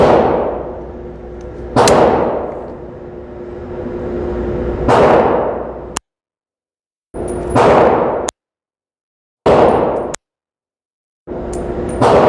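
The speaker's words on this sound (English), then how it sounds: "Okay, so we're about to take the first shots." A PSA AK-E rifle fires rifle line ammo from a Bulgarian steel magazine: five sharp, loud shots spaced a second or two apart, each cracking hard and leaving a long ringing decay outdoors.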